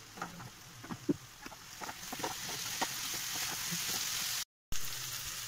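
Mughlai chicken masala with cumin powder frying in a pan, a soft steady sizzle with scattered stirring scrapes and taps early on, briefly cutting out near the end.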